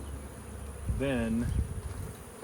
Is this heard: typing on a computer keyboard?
no